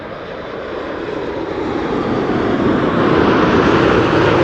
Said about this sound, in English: 787-10 Dreamliner arriving from New York, JFK